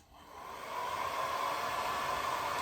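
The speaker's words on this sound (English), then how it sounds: "Okay, so let's dry this." A hair dryer switches on and blows steadily to dry a watercolor rose painting, its airy hiss and whine rising over the first half-second then holding a constant, close roar.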